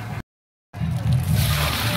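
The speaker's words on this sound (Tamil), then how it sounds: "தேவையான தண்ணி ஊற்றிக்கிறோம்." Water is poured into a pot of biryani masala, a steady splashing and sloshing that resumes after a short silent gap and grows fuller toward the end.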